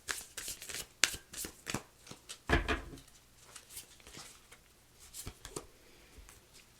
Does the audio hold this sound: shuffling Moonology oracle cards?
yes